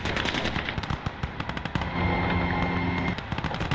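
Rapid bursts of .50 caliber machine gun fire in the World War II strategy game Call to Arms, Gates of Hell: Ostfront, loud, rattling strings of shots with a sustained burst in the middle and no talk.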